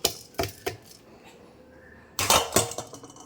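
Homemade cerelac baby-food mixture being spooned onto a steel plate: a few sharp metallic clinks and scrapes near the start, a quiet pause, then a louder cluster of clattering knocks against the plate, with no talking.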